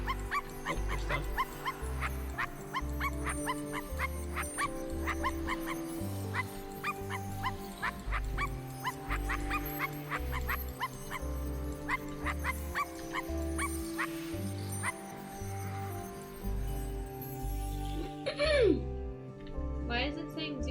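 Dog barking in the video game I Am Dead comes as a steady run of rhythmic barks over a looping game soundtrack that plays throughout at moderate level, with a rising tonal sweep near the end.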